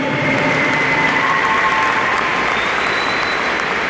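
Loud, dense applause from a large crowd fills the hall for a graduating student at a CMPM military-school graduation ceremony in Manaus, a steady wash of clapping with no pauses.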